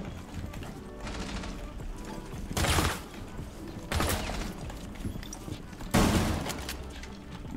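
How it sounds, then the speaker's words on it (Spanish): Gunfire in Rainbow Six Siege: a few separate bursts of shots at close-to-mid range, with quieter in-game mechanical clatter between them and no talk. "Está disparando como para arriba, para que yo me asome."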